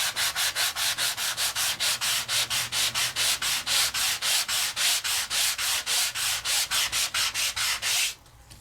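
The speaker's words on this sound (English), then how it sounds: "So we did sanding blocks, which means I can sand the paper to a lighter shade." Paper is sanded with a sanding block in quick, even back-and-forth strokes, a dry rasping scrape repeated about thirty times close up before stopping.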